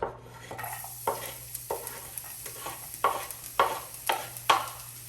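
Garlic sizzles in a hot pan while cooking crispy chilli beef, a soft steady frying hiss broken by about eight rhythmic scraping stirs, close and clear, with no voices.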